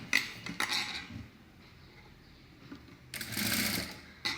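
A sewing machine stitches a high-neck blouse in two close, steady bursts of rapid needle clatter, separated by a quiet pause.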